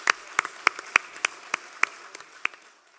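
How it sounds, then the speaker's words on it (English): Audience at the Polska Eire Festival applauding a singers' performance: a thin scattering of sharp individual claps, irregular and fairly close, fading out after a few seconds. "Let's give them one more round of applause for that performance."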